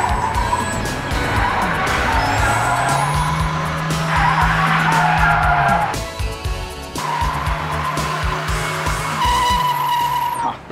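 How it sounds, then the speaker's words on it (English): Supercharged 1996 Toyota Previa minivan engine screaming at high revs through hard cornering, with tires squealing and skidding loudly throughout, the engine note rising and falling as the driver lifts off and gets back on the gas. "The engine is just screaming."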